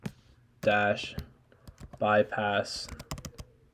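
Keys clatter in quick, light clicks as a command is typed on a Mac keyboard, scattered between and under a man's nearby speech.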